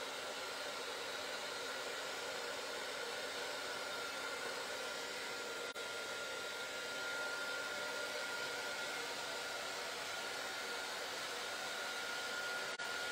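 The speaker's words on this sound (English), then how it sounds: "So this might get a little bit loud now because I want to dry that. So just going to bring in my heat gun." A heat gun blows continuously while drying a handmade craft card, a steady airy whoosh with a faint whine that holds unchanged, alone and moderately quiet.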